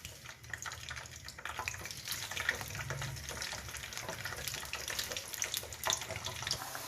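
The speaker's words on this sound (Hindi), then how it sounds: "ये मैंने ऑयल गर्म कर लिया है, अब मैं इसमें डाल के तो फ्राइज़ बनाने लगी हूँ" Cut potato french fries sizzle and crackle in hot oil, a dense steady hiss with small pops, fairly quiet and continuous with no talking.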